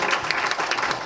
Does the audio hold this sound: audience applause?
yes